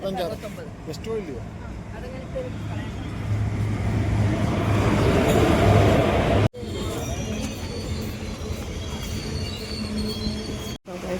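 A passenger train rumbles and squeals along the rails as it pulls into a station on the way to Guruvayur, loud and close, with voices audible over the noise.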